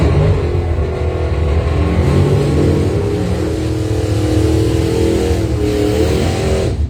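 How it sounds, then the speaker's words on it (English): A 1970 Camaro and a 1971 Camaro sit at a drag strip start line, engines loudly rumbling and revving together in a continuous, close, dense roar. "Joel Young, 70 Camaro from North Branch, dialing a 620 in the Winstar Forestry Lane. Will pair it up with a 71 Camaro of Tom Lumber from Gaylord"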